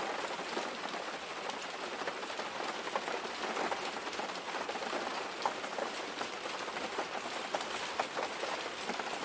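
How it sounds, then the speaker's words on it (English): Steady rain falling on a surface, a dense even patter of drops that continues without pause. "The sound of the rain."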